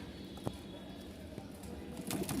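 A Bashiraj pigeon gives a few soft, faint coos close by against a quiet background, with small scattered knocks between calls.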